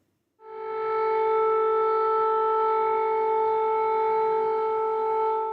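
A loud air raid siren in Dnipro, Ukraine starts abruptly and holds a steady, sustained wail without pause.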